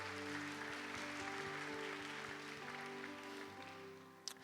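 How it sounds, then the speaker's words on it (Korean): Steady applause from a church congregation fills the room during a worship service, a continuous wash of clapping over a low sustained tone, holding at an even level throughout. "우리 이분들께 축복의 박수 한번 보내드릴까요?"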